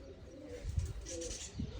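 Pigeons coo from a loft, soft low throaty calls coming in short bursts at close range, with a light airy background hiss and a faint chirp.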